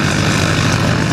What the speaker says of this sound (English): as the mighty C-5M begins its approach to landing